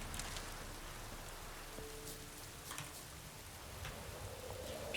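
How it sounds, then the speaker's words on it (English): Steady rain falls across the open world of The Witcher 3, a constant even hiss of drops pattering on surfaces with no talking over it. "Just love the way the world looks when it's raining."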